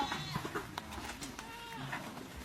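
A goat bleats a few times amid a busy outdoor background with people talking nearby.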